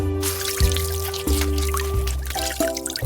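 Water sloshes and pours as wool lumps are washed in a soapy basin and then a clean one in a sheep farm video game, with repeated splashy dunks over a steady game music bed.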